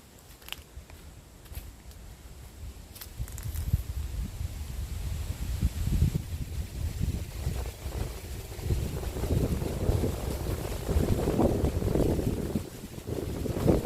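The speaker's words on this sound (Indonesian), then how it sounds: "ini angin menggelembung sekali ya, sehingga suaranya masuk" Wind gusts into the microphone on a mountainside above a village, producing low, rumbling buffets that swell and build in strength, steady and close with no speech.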